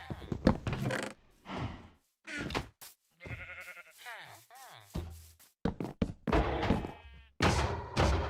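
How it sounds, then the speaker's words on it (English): Sheep in a blocky survival video game give several short bleats, with chopping-like thuds and clicks around them; close and clear, separated by brief silences. "Nice pink sheep."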